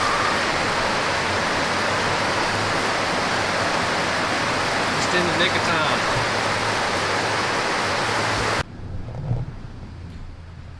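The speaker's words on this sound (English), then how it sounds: "Look how hard it's raining outside." Heavy rain pours steadily outside, a loud, dense hiss that fills most of the clip before cutting off abruptly near the end; someone speaks briefly over it.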